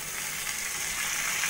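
Fried pointed gourd goes into a pan of potatoes frying with salt and turmeric, giving a steady, loud, hissing sizzle with no voices.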